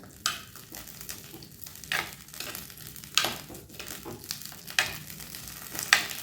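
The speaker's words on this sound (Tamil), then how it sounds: "இந்த கத்திரிக்காயை நல்லா எண்ணெயிலே நல்லா வதக்கி விடுங்க" Brinjal (eggplant) pieces fry in oil over a medium flame for an oil brinjal curry, giving a steady soft sizzle. A spoon scrapes and stirs the pan about once every second or so, each stroke making a sharp clatter, with no talking.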